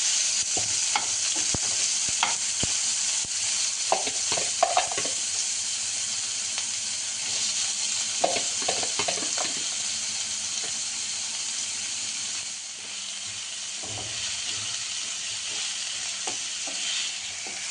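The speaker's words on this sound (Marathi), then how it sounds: "चांगलं परतून घ्यायचं आहे कांदा टमाटो" Chopped onion and tomato sautéing in a pan with cumin and a bay leaf, a steady close sizzle and hiss with irregular spatula scrapes and knocks running throughout, no voices.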